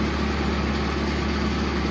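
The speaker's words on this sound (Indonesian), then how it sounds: "Ini kita biarkan mesin tetap hidup." The engine of a rarely used Daihatsu Zebra idles in the early morning, a loud, steady low hum with a faint vibrating rattle and no voices.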